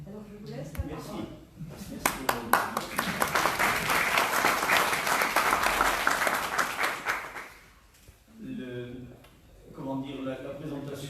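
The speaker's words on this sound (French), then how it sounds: "j'espère que les applaudissements n'étaient pas pour la conférence qui n'a pas encore commencé" An audience applauds warmly for about five seconds after a speaker's introduction, before a lecture on Saint Louis in the Oise valley begins. Someone speaks French just before and just after the clapping.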